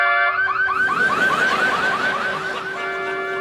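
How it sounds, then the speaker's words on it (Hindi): A faulty car alarm sounds close and loud, cycling a rapid warbling electronic whoop over a steady tone, then dropping back to a flat steady tone near the end. "इसका अलार्म ना कुछ दिनों से गड़बड़ चल रहा"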